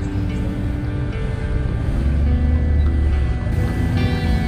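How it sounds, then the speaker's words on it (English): Interior of a taxi driving through Greece, a steady low engine and road rumble filling the cabin at constant level with no talking. "this is my ride home in a taxi"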